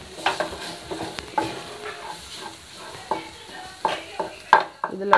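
Egg being stirred and scraped in a hot frying pan while it scrambles into a crumbly egg podimas, before parotta is added; repeated close scraping strokes over a steady sizzle, with no talk.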